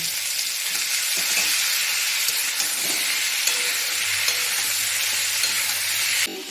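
Tomato goes into a hot frying pan with oil and spices, giving a continuous close, bright sizzle and hiss with light stirring scrapes, and a faint low hum joins near the end.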